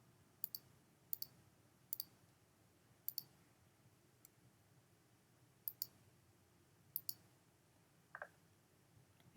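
Sharp computer mouse clicks, mostly in quick pairs, sound every second or so against a quiet room hum while a selection is traced around the edges of a pen.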